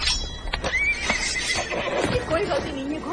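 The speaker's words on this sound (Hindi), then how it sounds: "घोड़े को कुछ लग गया, वो काबू से बाहर हो गया था।" A panicked horse out of control gives a loud, rising neigh over a busy soundtrack, with clopping hoof beats and other noise in an ancient Roman setting.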